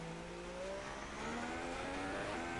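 A Formula 1 car engine in F1 2016 running slightly down on power: a continuous high revving whine that climbs through the gears, loud and steady, with no talk.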